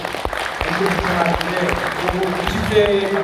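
Audience at a Korean PEN association general meeting clapping steadily, a moderate burst of applause with a voice speaking over it.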